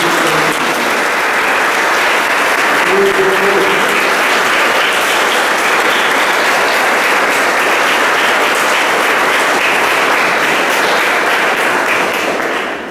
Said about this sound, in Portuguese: Batendo palmas pela reconciliação.